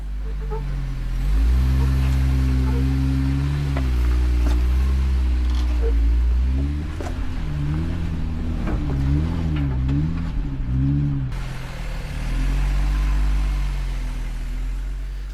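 An off-road vehicle engine with its rear locker engaged labors up a steep slickrock climb on the Hell's Revenge trail in Moab, Utah, droning loudly with repeated rising and falling revs.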